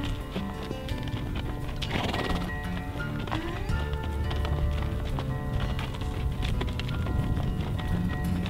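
A wild horse's hooves clip-clop close by at Cold Creek, a loose run of hoof knocks over an outdoor background, with a faint whinny-like sound partway through.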